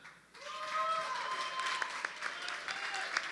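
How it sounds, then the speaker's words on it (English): An audience at a Republican candidate event applauds, with moderate crowd clapping swelling in after a moment of quiet and continuing steadily, accompanied by faint sustained tonal hums and whistles. "can we get a big round of applause for both candidates?"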